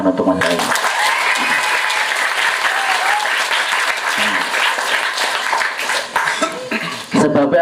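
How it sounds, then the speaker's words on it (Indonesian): An audience applauds for Mas Rois at a Ngaji Millenial religious gathering, with dense, loud crowd clapping sustained for several seconds before it thins out near the end. "Tepuk tangan untuk Mas Rois"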